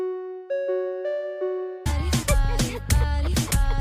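A plucked, bell-like synth plays a slow melody of sustained notes alone, then a heavy type beat enters with punchy drums and deep bass under the continuing bell line.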